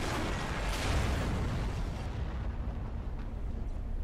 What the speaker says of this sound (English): They're gonna explode.